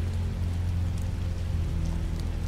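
Steady rain falls in the video game The Wolf Among Us, a constant hiss that runs unbroken from start to end over a low, droning hum.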